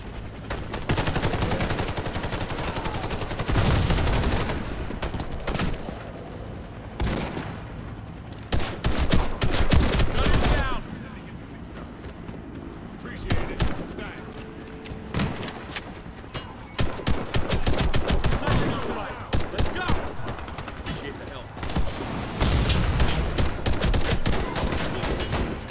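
Rapid bursts of automatic gunfire in the shooter game Warface, dense volleys repeating loudly across the whole stretch with brief quieter gaps between firefights.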